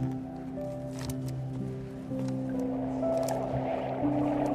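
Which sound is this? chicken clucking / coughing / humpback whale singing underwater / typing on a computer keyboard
humpback whale singing underwater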